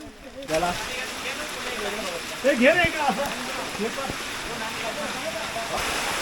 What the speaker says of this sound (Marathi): पाऊस खूप जोरदार आहे आणि या पावसामुळे हवा सुद्धा जोरदार सुटलेली आहे